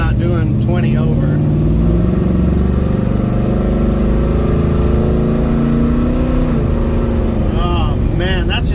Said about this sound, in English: Oh man, that's just partial throttle.